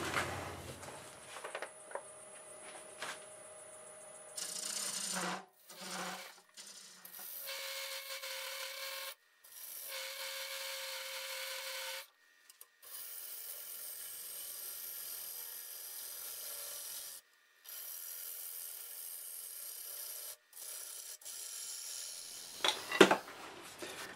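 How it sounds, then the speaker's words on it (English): A half-inch bowl gouge cuts a London plane wood bowl spinning on a lathe at about 875 RPM, giving faint, steady rubbing and scraping passes broken by brief pauses. "I'll go ahead and do some more shaping here with my half-inch bowl gouge"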